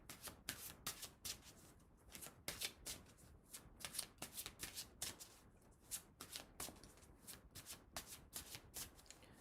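A deck of cards being shuffled and handled in a quiet room, a steady run of quick, close riffling bursts and soft slides repeating without pause and with no voices.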